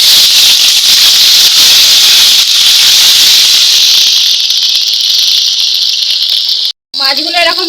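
Rohu fish pieces fry in hot oil on a clay stove, a loud, steady sizzling hiss that continues throughout, with a brief dropout near the end.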